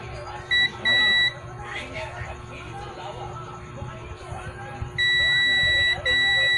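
A continuity tester's buzzer sounds while a wire connection is checked during repair of a Pensonic 32-inch LED TV: a short beep, then a longer tone, and later two sustained tones broken by a brief gap, all heard over someone talking.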